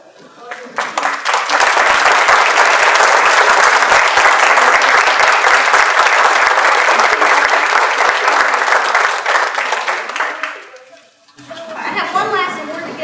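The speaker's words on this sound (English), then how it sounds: "round of applause." A loud burst of applause at a radiologic technology pinning ceremony, building quickly and holding steady for several seconds before fading, followed by some crowd chatter and a voice.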